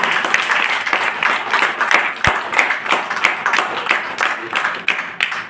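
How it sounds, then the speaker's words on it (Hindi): An audience claps for a guru in a hall, dense sustained applause with sharp individual claps throughout and a voice faintly heard underneath. "सभी साथियों मेरे गुरुदेव के लिए एक बार जोरदार से ताली मार दें"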